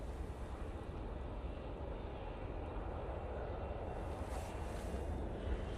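A Ryanair Boeing 737-800 departing Manchester Airport gives a steady, broad jet roar that holds loud and constant throughout, swelling slightly toward the end, with no talk over it.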